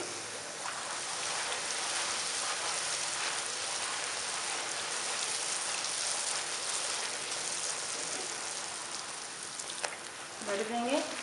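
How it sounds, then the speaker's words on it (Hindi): Puri sizzling and frying in hot oil, a steady, dense crackling hiss that runs throughout, close and fairly loud, with a brief faint voice near the end. "अब इसे उठाकर फ्राई कर लेंगे। ऑयल गर्म है,"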